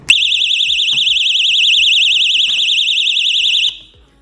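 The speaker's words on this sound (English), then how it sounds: "This is an alarm and it's serious." A Temu door alarm gadget sounds a loud, piercing warbling siren that runs for about three and a half seconds and then cuts off, with faint knocks and a brief voice underneath.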